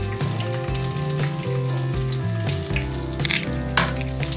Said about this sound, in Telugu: ఆనియన్, పచ్చిమిర్చి అవి వేసుకోవాలండి.